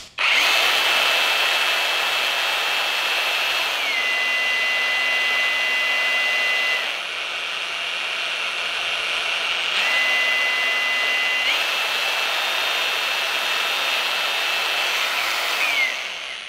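A Vrill VAG2100 cordless angle grinder runs freely for a long stretch with a loud, steady motor whine. The pitch steps down, holds, then climbs back up as the variable speed setting changes, with no talking.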